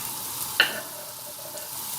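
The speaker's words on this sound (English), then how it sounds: "put a couple of tablespoons of oil into a pan and we're going to cook it off until the onions are browning" Onions frying in a couple of tablespoons of oil in a pan, a soft steady sizzle with a single light clink of a utensil near the start.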